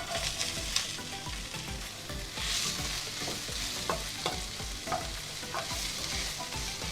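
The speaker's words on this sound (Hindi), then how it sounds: "इसी पैन के अंदर थोड़ा सा लेफ़्ट ओवर ऑयल होगा, उसके अंदर हम 1 कप वाइट अनियन फ्राई करेंगे।" White onion frying in leftover oil in a pan, a continuous close sizzle with scattered crackles and stirring clicks throughout and no talking.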